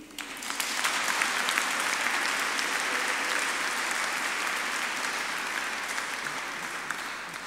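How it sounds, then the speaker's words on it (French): Sustained, dense applause from a large audience greeting the founder of the Soirées Raphaël at the Medj' Do It 2023 gathering, holding steady and loud for the whole stretch with no talk over it. "je vous demanderai de l'applaudir"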